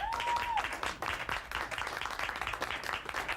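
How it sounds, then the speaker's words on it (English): Crowd at a 1985 WWF wrestling event applauds Mr. Wonderful with a steady, moderately faint patter of clapping, a brief tone sounding at the very start. "By way of applause, let's hear it for Mr. Wonderful."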